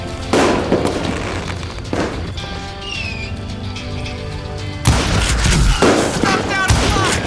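Gunshots and booming reports crack out in the video game Call of Juarez Gunslinger, sharp loud bursts early on and again near the end, with quieter ringing game ambience between them.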